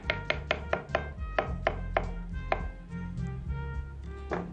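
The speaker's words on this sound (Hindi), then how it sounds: "और इसके बाद इस केले को भी आप काट लें।" A knife cuts a banana on a board with a run of sharp, close taps, quick at first and then slower, over a soft musical background.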